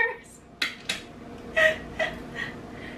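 Cocktail shaker rattling while mixing a pineapple juice drink, a few sharp irregular clinks and clatters of ice and metal, close by.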